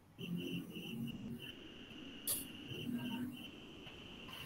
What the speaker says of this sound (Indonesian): Udah terdengar itu suara jangkrik itu.